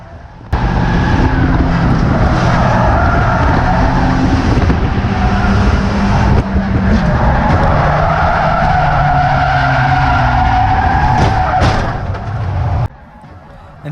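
Race cars on the final lap roar and skid continuously, with loud engine drone, tire squeals and scraping slides running for over ten seconds before cutting off abruptly.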